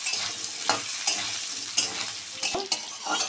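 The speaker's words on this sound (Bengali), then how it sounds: "তেল দিয়ে এই কাঁচা লঙ্কা, একটা শুকনো লঙ্কা ফোড়ন দিলাম" Green chillies and a dried red chilli spit and sizzle in hot oil, a steady close frying hiss with occasional sharper pops and stirring clatters.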